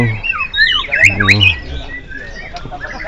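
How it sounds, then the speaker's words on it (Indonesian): Songbirds chirping at a bird singing contest in Singkil; sharp, shrill squawks and trills burst loudly for about a second, then fade to a busy crowd murmur. "Ini ada burung-burungnya lagi berkicau."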